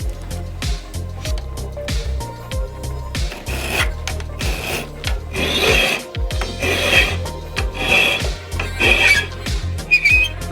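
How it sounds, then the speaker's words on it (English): A file rasps against a homemade slingshot rifle stock in repeated rhythmic strokes, each scrape loud and close with squeaky, whistling overtones. "We'll add the sound to it, so when I do it, you hear the file sound."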